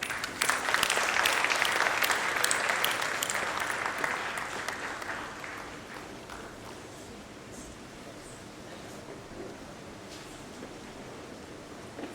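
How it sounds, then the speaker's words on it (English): A crowd claps loudly at first, then the applause gradually thins and fades into a softer, scattered patter. "Please welcome him with a big applause."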